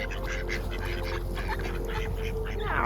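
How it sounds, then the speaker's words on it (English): Ducks in a Swedish winter setting quack repeatedly at close range over a steady low background hum, with a brief burst of louder calls near the end. "The ducks are coming to say hello."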